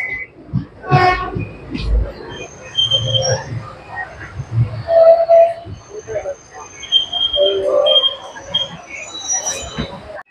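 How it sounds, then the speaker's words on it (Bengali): The 16751 Chennai Egmore–Rameswaram Express pulls into platform 1 at Ramanathapuram station. A short horn toot sounds near the start, followed by rumbling and clanking wagons, with some brief tones and people's voices over the noise. "সকাল 6:23 পরিবর্তে সকাল 6:53 আমাদের ট্রেন এসে প্রবেশ করলো রামানাথপুরম রেল স্টেশনের 1 নম্বর প্ল্যাটফর্মে।"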